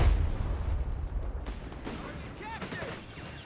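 Gunfire volleys in the real-time strategy game Company of Heroes 3, a quick burst of booming and crackling shots that fades into softer battle noise, mixed with other game effects.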